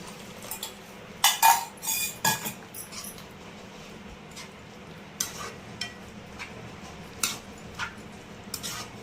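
Milk is being stirred into carrot halwa in a pan, about half a litre of milk to half a kilo of carrots. Close, irregular spoon scrapes and sharp clinks against the pan come in uneven bursts, with a few louder knocks.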